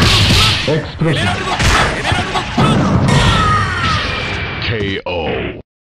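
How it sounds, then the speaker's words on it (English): Loud explosions and crashing impacts fill a fight in the Mugen fighting game, a dense barrage of booms and thuds with a shouted voice over them, ending abruptly. "Explosion."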